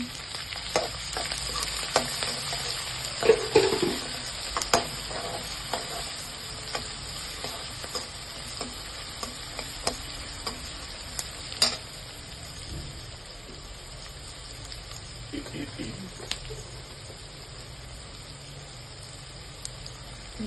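Onions frying in oil in a pan for lemon rice, a steady close sizzle and hiss with occasional spoon scrapes and taps from stirring, fairly quiet and even throughout, no talking.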